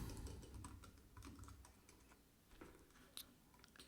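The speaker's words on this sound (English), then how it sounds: "I'm just going to type in an amazing website" Quick, light keystrokes on a computer keyboard tap out a website address, a soft close-up flurry of clicks with brief pauses.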